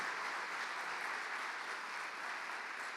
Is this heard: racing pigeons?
no